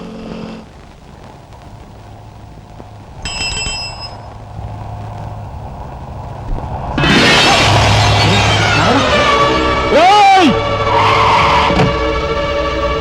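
In a near-accident scene from a Telugu action drama film, a car's tires screech loudly. A rushing burst of noise swells midway, followed by a sliding squeal and faint bell-like tones over a steady background rumble.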